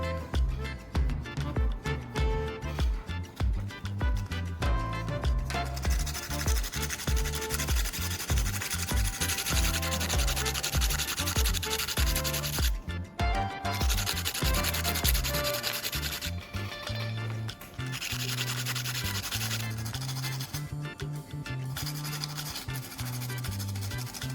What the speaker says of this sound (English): I'll sharpen one end to improve the welding contact point.